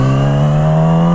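A Yamaha R6 motorcycle engine hums loud and close while riding, a steady sustained tone holding a constant pitch with a slight rise, with no talking.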